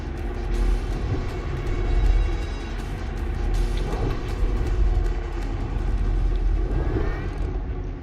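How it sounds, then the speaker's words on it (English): A spotter plane launches in the naval combat game World of Warships, its propeller engine droning and rising over a continuous rumble of ship engines and sea, fairly loud and without talking. "Spotter airborne."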